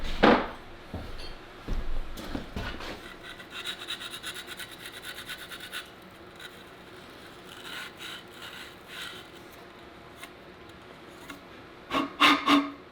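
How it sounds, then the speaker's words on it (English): A wooden log for a log cabin is sanded by hand in bursts of rough rasping strokes, some quick and repeated, with pauses between, close and moderately loud. "let me sand it just a little"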